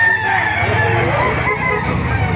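A rooster crows loudly and close by over a busy, noisy chicken market background in Baliuag, the call drawn out across most of the moment.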